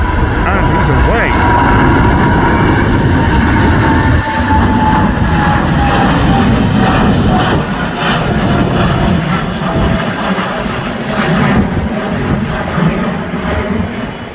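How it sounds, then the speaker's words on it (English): A Boeing 787 Dreamliner airliner takes off at Schiphol Airport with a loud, continuous jet-engine roar. A whining engine tone slowly drops in pitch as the plane climbs away. "We've just had one Dreamliner, now we're going to get another."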